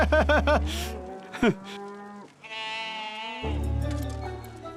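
A cartoon cow moos in a long, loud, drawn-out call. It is followed by further bleating livestock calls and a high melodic tone, and no voices are heard.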